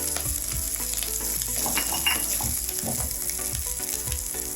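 Green chillies frying in oil in a pan for a ridge gourd roti chutney, a steady close sizzle and crackle with scattered pops and spatters running throughout, no talk.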